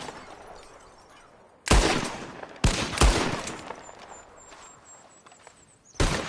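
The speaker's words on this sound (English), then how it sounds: "Who can shoot the most bottles? Just draw your gun and aim when you're ready" Gunshots aimed at bottles in a console video game: three loud, sharp reports spaced a second or so apart, each ringing out briefly over quiet background ambience.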